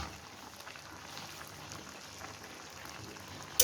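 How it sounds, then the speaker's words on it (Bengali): Cauliflower simmers in a covered pan over a low flame, giving a soft, continuous bubbling and hissing that stays faint and even, with no voices. "আমাদের ফুলকপিটা সেদ্ধ হয়ে আসছে।"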